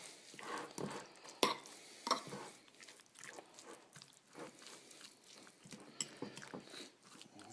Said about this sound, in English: Mix it up real good.